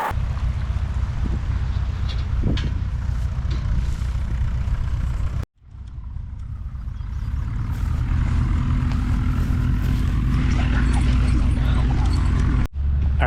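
A dog whimpers and yips at a riverside campsite during a Cessna fly-in. Short, faint cries sit under a loud, continuous rumble of wind and background noise that drops out briefly midway.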